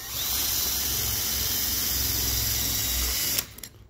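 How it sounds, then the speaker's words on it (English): A power drill whines steadily as it drives an Acme driver tool into an extruder screw, running continuously and loud up close before stopping abruptly near the end. "you can use again the Acme driver tool with a drill."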